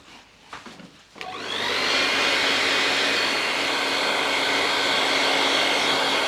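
A hair dryer drying product on the skin during a frontal wig install switches on after a brief rustle and then blows as a steady, loud, close roar that holds to the end. No voices.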